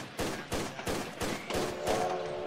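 Gunfire in a Tomb Raider level editor game: five or six loud, evenly spaced shots, each roughly half a second apart, ring out close and alone with a short tail after each.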